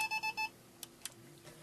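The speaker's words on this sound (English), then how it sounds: "and also it also beeps" An EMF meter used for ghost hunting gives four quick electronic beeps, loud and close, followed by a few faint ticks and clicks in a quiet room.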